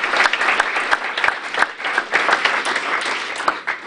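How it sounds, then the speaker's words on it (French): Audience applause in a lecture hall, a steady wash of many hands clapping for about four seconds, moderately loud with no voices on top. "On vous applaudit avant."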